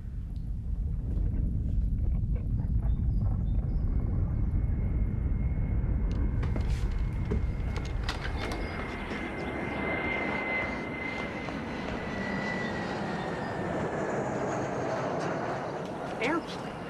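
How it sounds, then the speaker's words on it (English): An airplane engine roars loudly, its drone shifting into a rising whine as it passes, with sporadic voices talking over it. "Airplane."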